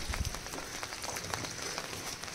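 Steady rain falling outdoors during the rainy season, a dense, even hiss of drops with a few louder patters, fairly faint and constant.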